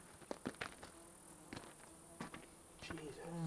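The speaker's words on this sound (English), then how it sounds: "So many bees trying to land on me right now. They're like swarming." A swarm of bees buzzes around a person on a forest road, faint and intermittent, with insects passing close to the microphone in short bursts over a quiet outdoor background.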